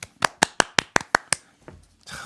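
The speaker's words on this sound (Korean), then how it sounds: "오, 박수." Hand clapping in a radio studio, eight crisp, evenly spaced claps in quick succession, close and fairly loud, fading to a faint rustle and a brief murmur at the end.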